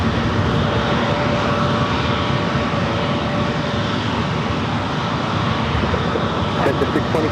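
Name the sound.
FedEx ATR turboprop aircraft passing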